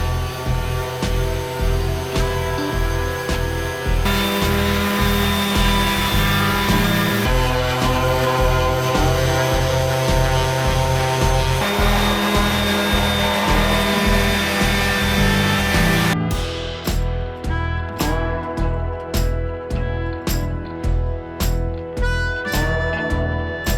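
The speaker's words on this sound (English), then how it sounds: "I'm gonna get the sander out and start sanding this bar down" Continuous rough grinding of a power sander working an aluminium bull bar, loud and close, with a rapid rhythmic pulsing throughout and a brighter, harsher stretch near the end.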